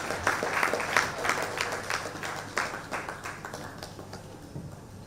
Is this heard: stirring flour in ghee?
no